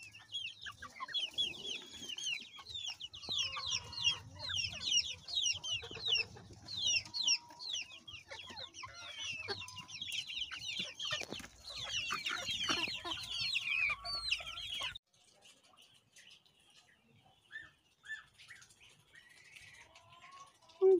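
A flock of chickens, among them a young naked-neck cockerel, cluck and chirp busily in a yard, many overlapping calls for most of the stretch, then fewer scattered clucks near the end.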